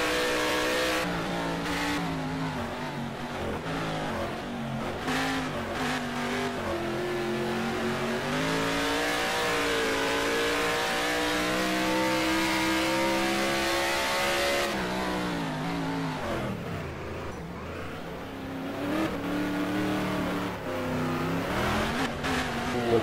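Race cars at the Mission Bell 200, round 1 of the 2019 HSO Gold Star series, accelerate and rev hard in a sustained, loud engine roar. Pitch rises and falls through the gears, with a brief drop near the end before the cars pull away again.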